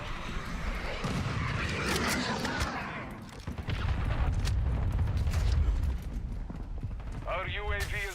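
Cruise missile strikes in a Call of Duty match land as a run of heavy booms and rumbling blasts with crackling gunfire, ending in a burst of digital chatter, loud and dense.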